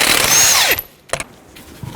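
A power tool spinning a 21 mm socket on the wheel nuts of a 2006–2012 Toyota RAV4 during front brake work: a loud whirring burst that winds down, then a short sharp clatter and a few faint knocks.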